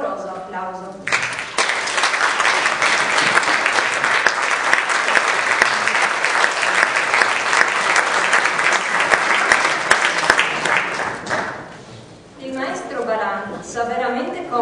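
Warm, sustained applause from a concert audience for a conductor and orchestra, dense and steady for about ten seconds, then fading as a voice resumes speaking.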